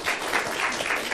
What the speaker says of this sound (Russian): Бурные аплодисменты.